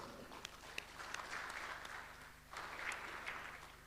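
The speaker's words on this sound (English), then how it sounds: "A round of applause to WIEF." Audience applause at the opening ceremony of a WIEF roundtable in Penang, a steady moderate clatter of clapping that swells again partway through, with a low electrical hum beneath.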